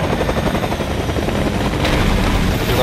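A helicopter in the video game Fortnite thrums steadily and loudly, its dense rotor chop filling the whole stretch with no pause.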